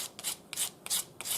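Short rasping strokes of hand sanding on a wooden spoon, four quiet scratchy passes in an even back-and-forth rhythm, close and alone.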